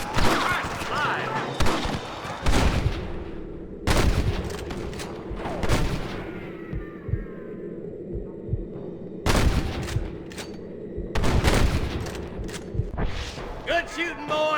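Gunfire in a Red Dead Redemption shootout against rustlers, with loud cracking volleys in separate bursts and quieter gaps between them, and game characters talking in between.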